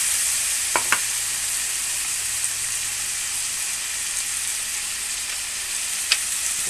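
Food sautéing in a hot pan for a mung bean (monggo) dish, a steady broadband sizzle throughout with a few sharp clicks of a utensil against the pan.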